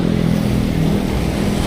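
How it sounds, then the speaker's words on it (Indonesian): A motorcycle exhaust roars loudly and continuously nearby on a road in Indonesia, a dense rumbling engine drone with slight revving, heard from a cyclist's position alongside traffic. "Tuh suara knalpotnya."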